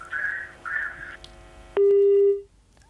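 A telephone line cutting off during a live TV call-in to a Hindi business programme: a single loud, steady electronic tone about 0.7 seconds long, following two brief higher beeps and a soft background hum.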